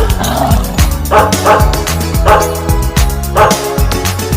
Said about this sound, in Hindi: मुझे कुत्ते ने जगाया, बोला काऊ काऊ काऊ